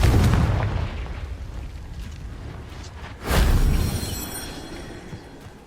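A Confringo fire spell explodes in the Hogwarts Legacy video game during the final fight against Ranrok: a heavy boom fades from the start, then a second loud, deep blast erupts midway and rumbles out slowly.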